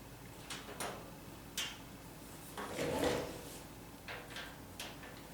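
Screws are backed out of the top lid of an Amaircare 3000 VOC air purifier, giving a series of faint, separate clicks and a brief scraping rattle in a quiet room.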